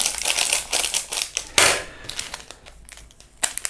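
Rustling crinkle of a plastic packet with dry, brittle pieces of vegan pizza-flavoured noodles clattering and pouring out in a few quick bursts.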